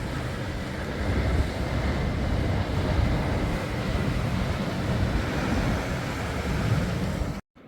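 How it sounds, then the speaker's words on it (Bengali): A heavy storm of wind and rain outside during a Dubai downpour, heard as a loud, steady, close rushing roar that fills the whole stretch before cutting off abruptly near the end. "বৃষ্টির পানিতে দেখেন প্রচণ্ড ঝড় বাতাস"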